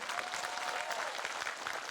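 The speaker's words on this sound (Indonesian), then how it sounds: "Tepuk tangan untuk BMI, keren ini." Dense applause from a crowd at an Islamic religious gathering in Taiwan, steady and fairly loud throughout with no break.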